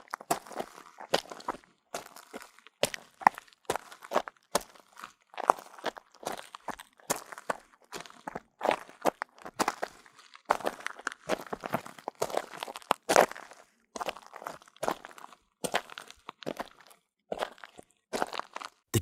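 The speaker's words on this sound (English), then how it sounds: "And then, he heard footsteps." Footsteps of two people approaching a chicken coop as a story sound effect, a steady run of crunchy, irregular steps on loose ground, fairly close and alone throughout.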